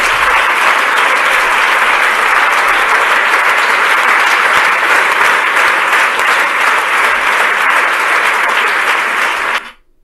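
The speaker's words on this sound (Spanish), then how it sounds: "toda la bola de imbéciles aplaudiendo" Sustained applause from a large audience, dense clapping filling the whole stretch at steady loud level before cutting off abruptly at the end.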